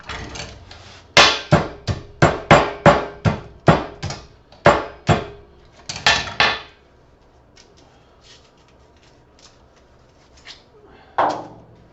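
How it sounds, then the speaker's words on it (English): Rapid series of sharp metallic hammer strikes on copper, about a dozen loud blows close up, then a pause and one final hit. "That always loosens things up. The old hammer."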